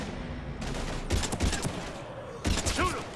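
Mass Effect 3 gunfire rattles in two loud bursts of rapid shots, with a short pause between them, during a fight against husks.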